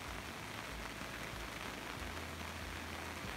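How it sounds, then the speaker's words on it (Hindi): Steady rain falls continuously in a mountain village, a dense even hiss of drops on surfaces holding at a constant level from start to finish with no other sounds standing out. "बारिश लगातार चल रही है"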